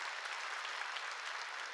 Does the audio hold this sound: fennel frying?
no